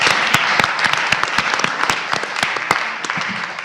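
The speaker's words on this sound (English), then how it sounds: "So a big thanks and a big applause for our guests." An audience at an academic panel on borders applauds a speaker with dense, steady clapping, crisp individual claps standing out across the whole stretch.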